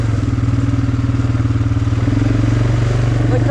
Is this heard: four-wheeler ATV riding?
yes